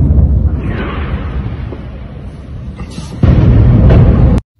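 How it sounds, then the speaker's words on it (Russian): A deep, rumbling artillery shot boom that swells and fades, then a second heavy blast of the shell impact suddenly louder before cutting off abruptly. "Слушайте звук выстрела и прилета."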